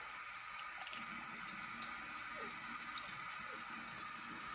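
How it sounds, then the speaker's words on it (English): Running water streams from a tap over a painted pint glass being rinsed, a faint, steady low hiss with small splashes, quiet and continuous throughout, with no one talking. "So I'm just rinsing it just to see. If it'll just come off with just water"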